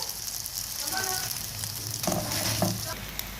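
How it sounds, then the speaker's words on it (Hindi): Onion and mashed potato frying in a pan for an aloo paratha filling, a steady close sizzle with a few spatula scrapes, without talk. "प्याज को करेंगे हल्का सा फ्राई कि इसका पर्पल से कलर पिंक हो जाए"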